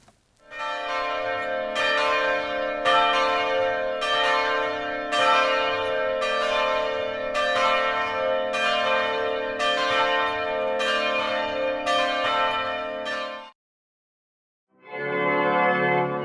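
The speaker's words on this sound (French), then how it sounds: "on va pouvoir entendre un beau carillon qui date de" The church carillon of Lac des Aigles, dating from 1958, rings in a steady rhythmic peal of about a dozen evenly spaced bell strikes with a long sustained hum, then stops briefly before the bells resume.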